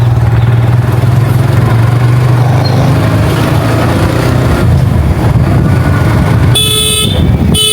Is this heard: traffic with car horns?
yes